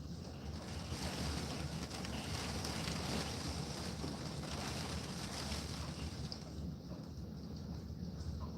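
Hurricane Ian winds at night in Lakeland: a steady, dense roar of wind with rushing, surf-like noise, fairly faint and continuous, with no talk.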